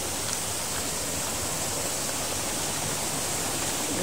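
Waterfall at Bambi Falls, a constant broadband rush of falling water, steady and loud with no variation and no voices.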